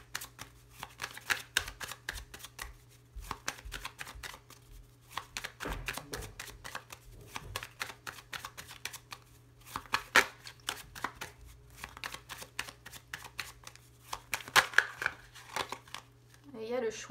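Lenormand cards being shuffled and cut for a tarot-style reading, a run of quick papery riffles and soft taps repeating throughout, close and moderately loud against a quiet room hum, with brief pauses between bursts.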